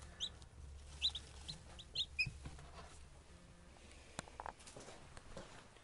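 Newly hatched Lavender Orpington chicks fresh from an incubator peep faintly, a few sharp high chirps scattered over a quiet background with soft handling noises.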